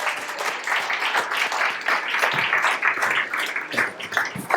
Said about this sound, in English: So Patrick, you want applause?